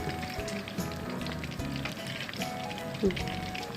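Batter-coated small freshwater shrimp fritters frying in hot oil, giving a continuous crackling sizzle at moderate loudness, with a voice talking faintly over it.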